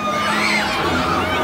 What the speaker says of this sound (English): If you want to go higher, let me hear you scream!